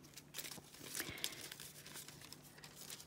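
A roll of holographic nail foil is handled up close, giving soft crinkling and brief tearing rustles in a quiet room.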